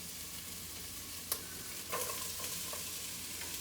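Onion goes into a sizzling pan of turkey bacon, with a steady hiss joined by a few sharp clatters and a brief surge of sizzle as the pieces land, and nobody speaking.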